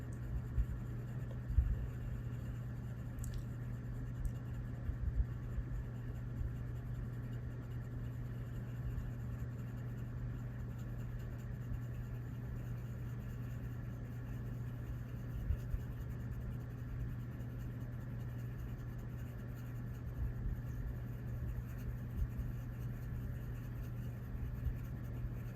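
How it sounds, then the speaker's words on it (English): Colored pencil held on its side, gently scraping tiny flecks onto paper, giving a soft continuous scratchy rasp close up, steady and quiet over a constant low hum with no talk. "I'm using the side of the colored pencil, and I'm just gently scraping tiny little pieces off onto the paper."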